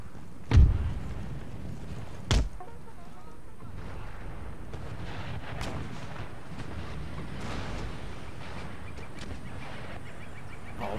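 Musket and artillery fire in an Empire: Total War battle: two sharp, loud blasts a couple of seconds apart, then a steady low rumble of distant battlefield crackle.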